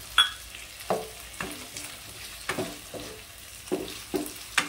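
Chopped tomatoes go into hot oil in a pan for ghugni, a soft sizzle punctuated by about half a dozen sharp spatula scrapes and knocks as they are stirred, close by with no talking.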